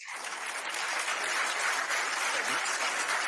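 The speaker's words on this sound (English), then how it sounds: "there's like 3 people at the press club clapping for it" Thin, scattered applause from a small handful of people at a press club, a few hands clapping unevenly for a little over three seconds with no voices over it.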